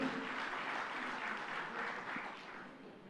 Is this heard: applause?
yes